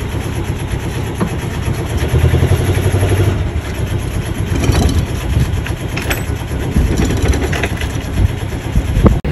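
A sailboat's motor runs steadily and loudly at close range, a rough, rumbling drone with clattering and wind noise over it.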